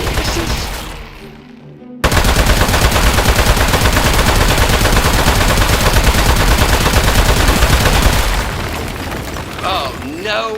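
Gunfire at metal targets, loud and close, rapid shots merging into a dense sustained barrage after a brief quiet start, then trailing off with voices talking at the end.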